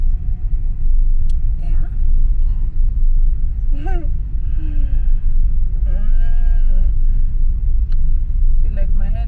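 A car's engine rumbling while a woman drives, a steady low road drone throughout with people chatting over it inside the cabin.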